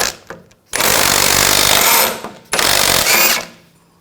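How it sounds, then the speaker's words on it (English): Power tool spinning off a ball joint nut with a 22mm socket on a BMW X5 front suspension, two loud close whirring bursts with a short break between. "Remove this nut. Use a 22mm socket."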